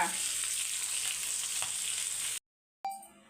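Fish sizzles and crackles in a frying pan with a steady, soft hiss, then stops briefly before the frying sound returns.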